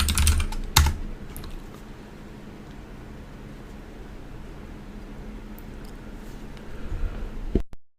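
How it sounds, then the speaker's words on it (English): Keystrokes on a computer keyboard as a terminal command is entered, a quick burst of clicks at the start and a few more taps near the end, with steady faint background hiss between and no speech. "the next command we'll type is make"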